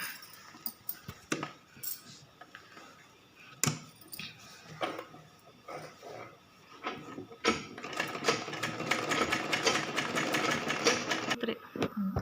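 Sewing machine stitching a seam on baby summer shorts fabric, heard as intermittent short mechanical bursts that build into a steady, busy run of rapid stitching near the end, close and fairly loud.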